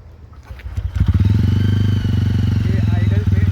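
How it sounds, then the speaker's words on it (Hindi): TVS Ronin motorcycle engine idling, its exhaust giving a steady low, throbbing thump close by after a brief softer start, with a voice briefly heard over it. "ये आइडल पे इंजन की आवाज़ है।"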